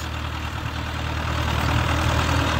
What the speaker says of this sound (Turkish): Evet traktörümüz geliyor